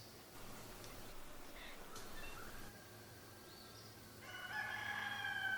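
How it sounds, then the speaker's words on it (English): Outdoors, a rooster crows faintly in the distance as other birds call, the crowing rising toward the end over a quiet ambient hum. "And the birds over here."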